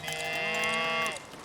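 A single drawn-out cow moo, close and clear, from livestock in the video game Foundation, lasting about a second before fading into quiet.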